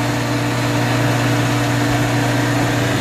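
A swimming pool pump motor runs loudly and continuously, giving off a steady mechanical hum and whir with a dense, unchanging drone at close range and no speech.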